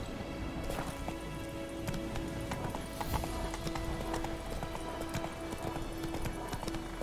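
Hooves of the horse Roach pound in a fast, continuous gallop in the video game The Witcher 2, a dense clip-clop rhythm under steady game ambience.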